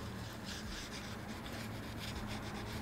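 Oil pastels are scrubbed back and forth over each other on paper, making a steady, close, continuous dry rubbing and rasping texture with no pauses and no voices.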